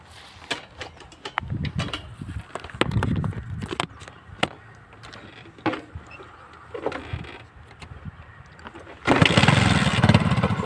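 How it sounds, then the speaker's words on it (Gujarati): A motorbike being started in a farm field: scattered clicks and knocks first, then near the end the engine catches into a loud, steady, close running roar. "તો મિત્રો આપણે બાઇક ચાલુ કરી દીધી છે"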